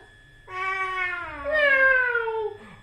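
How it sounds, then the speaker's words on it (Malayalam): A pet cat gives a close, drawn-out meow that rises and then slides down in a two-part wail, clear against a quiet room. "നമ്മുടെ പൂച്ച"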